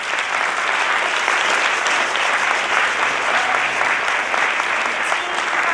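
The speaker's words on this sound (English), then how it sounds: "Let's give them a round of applause." An audience at a county scholastic bowl award ceremony gives the Jefferson team a round of applause: dense, loud, continuous clapping that holds steady throughout.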